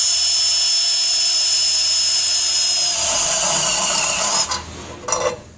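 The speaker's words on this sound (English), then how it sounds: "We'll do a little drilling into stainless steel and see how fast they are and how nicely they cut." A Greenlee step bit in a power drill bores into stainless steel with a loud, steady high-pitched whine, then breaks through and spins down in a couple of short bursts near the end.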